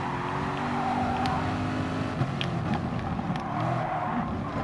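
Race cars in Gran Turismo Sport, Porsche and Chevrolet among them, roar close by with steady engine drone and shifting pitch as they pass, loud and continuous, no talking.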